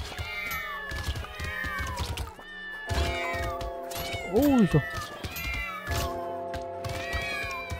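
Repeated cat meows from the game Brotato sound over and over, loud and close, one long rising-and-falling wail standing out, while a person talks through them.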